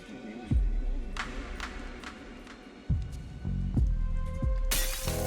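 Glass-like objects shatter in a video game, with several sharp breaking crashes spread across the moment and a bright burst near the end, over a low background hum.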